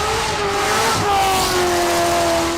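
A Chevy Corvette with a 6.2-liter V8 and rear-wheel drive revs hard and close, its engine note climbing into a sustained high-pitched whine that runs steadily for a couple of seconds without any talk.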